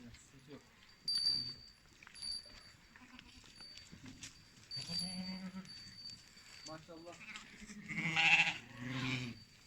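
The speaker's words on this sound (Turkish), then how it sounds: "Bak adaklı koyunlarımız var arkadaşlar görüyorsunuz." Sheep in a fattening barn bleat loudly nearby in several calls, with one louder cry near the end, while someone talks over the flock.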